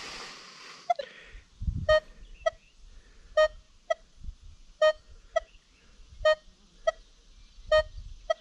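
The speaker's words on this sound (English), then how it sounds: "So I get a very similar signal this way, comparing these detectors with the settings that I have in them" Repeated tones from a Nokta Makro Legend or Minelab Equinox 800 metal detector, about ten short, clear beeps in an uneven rhythm during a nail and coin test, with faint handling noise between them.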